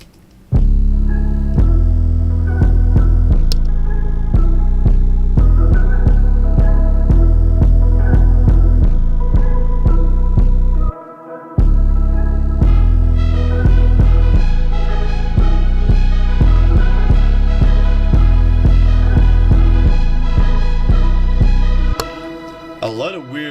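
A glitchy plugin effect layered over bass, strings and a dense electronic track made in FL Studio, loud and continuous with stuttering harmonic textures, one brief dropout midway and a fade near the end.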